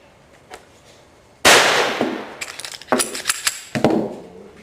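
A Kahr CM9 9mm pistol fires outdoors: a sharp, loud report, followed by lighter metallic clinks and pops that fade over a few seconds.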